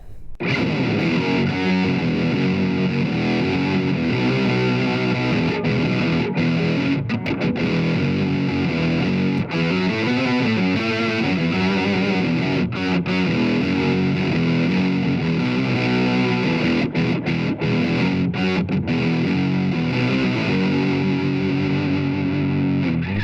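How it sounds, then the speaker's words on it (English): A heavily distorted, gated electric guitar through a Blackstar ID:Core 100 amp with an octave-down effect and small reverb plays a thick, low stoner-rock riff, loud and sustained with choppy cutoffs between chords. "high gain, gated, octave low, small reverb, really cool for that stoner kind of heavy riff-based rock"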